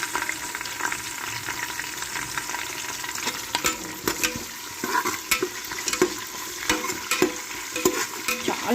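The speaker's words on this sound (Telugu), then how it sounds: "ఇప్పుడు మనం ఉల్లిపాయలు వేసుకుందాం" Onions sizzle steadily in hot oil for khushka biryani while a spoon stirs them, sharp scraping clicks of the utensil against the pan recurring irregularly over the constant frying hiss.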